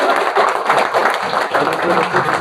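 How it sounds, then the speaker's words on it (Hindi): Sustained crowd clapping for a top-ranked student at a coaching-institute felicitation, a dense, even wash of applause with voices murmuring underneath. "122। जोरदार तालियां होनी चाहिए भाई।"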